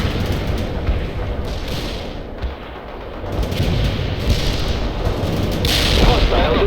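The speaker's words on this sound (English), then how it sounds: "Artillery strike is inbound." Artillery fire from the World in Conflict PC strategy game lands as loud, rolling booms and crackling blasts over several seconds, with game radio voices mixed underneath.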